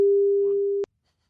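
A single steady phone call tone, a pure electronic beep held for under a second before cutting off abruptly, heard alone and close.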